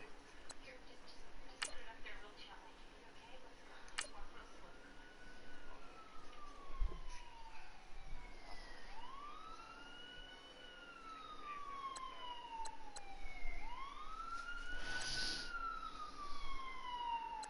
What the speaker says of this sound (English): it sounds like they keep getting louder and louder, them sirens